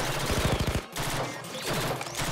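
Rapid bursts of automatic gunfire in the video game Blue Archive, a quick rattling volley that stops, followed by more scattered shots under game effects and music.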